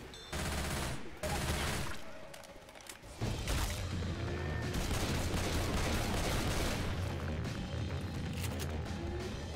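Machine gun fire in the Left 4 Dead 2 video game, loud sustained automatic bursts with a brief drop near the start, then continuous rattling fire over a low rumble.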